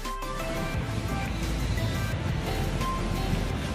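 Rough surf breaking against a rocky shoreline in Baler, a steady loud roar of churning water with continuous broadband wash and no speech.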